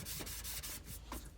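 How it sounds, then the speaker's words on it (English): Hand sanding of putty on the metal body of a 1970 GT pedal car being restored, heard as a close, steady, rhythmic rubbing scrape of back-and-forth strokes, with no talking. "And then we touched up our putty, and we're sanding again."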